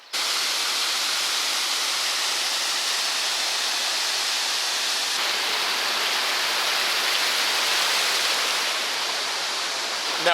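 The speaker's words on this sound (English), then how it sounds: "Now this is a waterfall." A waterfall in Shenandoah National Park roars as a loud, steady, close rush of falling water, unbroken and even for the whole stretch, with no voices.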